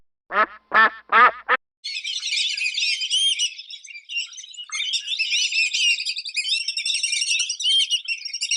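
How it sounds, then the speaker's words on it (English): A few short duck-like calls, then a long stretch of rapid, raspy high-pitched chattering calls, fairly loud and without talk. "let's take a moment and listen to some of the sounds that ducks make"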